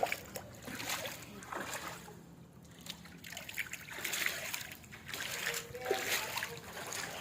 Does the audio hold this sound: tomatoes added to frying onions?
no